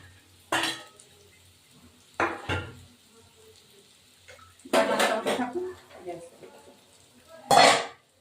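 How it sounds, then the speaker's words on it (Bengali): Fish goes into a home cooking pot, heard as scattered clanks of a utensil against the pot with brief splashing and sizzling bursts, and a person talks in between. "এবার আমি মাছটা দিয়ে দিলাম এই মাছটা দিয়ে দেবো"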